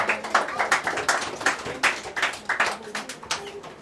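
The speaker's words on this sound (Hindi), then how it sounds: "ताली ताली इन दोनों बहनों को।" An audience at a Bible study gathering claps for two sisters, a brisk, irregular patter of hands that stays fairly close and continues throughout.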